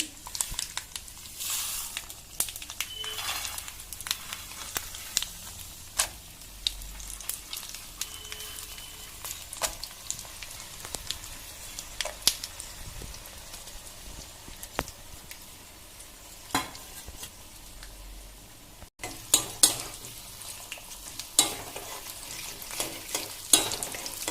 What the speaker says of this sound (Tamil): கடுகு, வெந்தயம் பொரிஞ்ச பிறகு